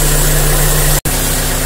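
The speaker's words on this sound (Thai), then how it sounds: "เดี๋ยวฟังเสียงเครื่องยนต์นะครับว่ามันจะดึงหรือเปล่า" A car engine idles loudly and steadily nearby with a low constant drone, while its faulty air conditioning compressor is being tested; the sound cuts out for an instant midway, then resumes.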